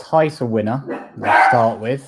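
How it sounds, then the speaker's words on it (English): A dog barks and yelps excitedly in the background of a live football podcast, repeated sharp barks mixed in with someone talking over it. "Excuse the dog in the background."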